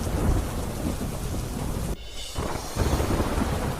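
A thunderstorm over Gujarat brings a heavy, steady downpour with deep rolling thunder. The roar drops briefly midway, then the rain surges back even louder, and there are no voices.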